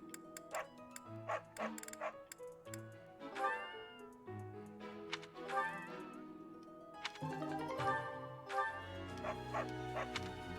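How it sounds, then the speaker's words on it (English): Cats meowing alongside dog barks and yips inside Fire Emblem: Three Houses, repeated short calls scattered over game music with a ticking background, fairly continuous and moderately loud. "Giving the cats food is a really, really easy way."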